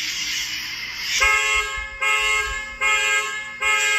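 A car alarm blaring its horn in loud, repeated honks that start abruptly after a second of background noise, then pulse in a regular rhythm of long blasts, each cut by short gaps.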